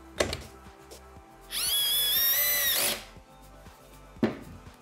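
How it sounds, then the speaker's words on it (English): A screw is driven into a fischer SXR/SXRL frame fixing plug with a power driver. One close, steady whirring burst lasts about a second and a half, with a few light knocks just before and after it. "So the screw needs to be driven to the plug."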